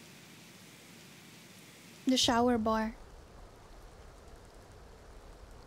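Steady rain falls across a castaway island in The Sims 2 Castaway, a soft continuous hiss running the whole time with a brief spoken phrase in the middle.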